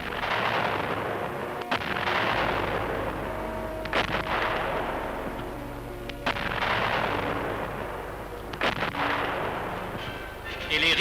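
Heavy cannon booms of an artillery gun salute marking a sovereign's death fire one after another at regular intervals, each blast rolling out and echoing across open space.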